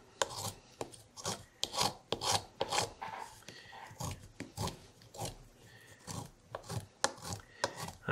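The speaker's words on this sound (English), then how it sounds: "I'm cutting off a lot of wood" Hand tool shaving wood from the edge of a German fiddle, rhythmic rasping strokes about once per second, close and dry, with soft gaps between each pass.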